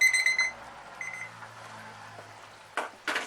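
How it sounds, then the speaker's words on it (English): A kitchen timer beeps in quick electronic bursts while raspberry jam cooks, then falls quiet before two short rustling knocks close by. "There's my timer"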